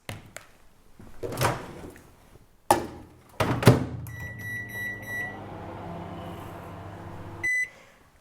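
A microwave door thunks shut, a few beeps sound, then the oven hums steadily with a faint whir while melting white chocolate chunks, before a final beep and click.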